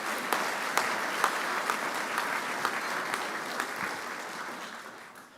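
Audience applause for finalists and winners at a business ethics awards ceremony, a sustained even clapping from a sizable crowd with a few sharper claps, fading slightly at the end.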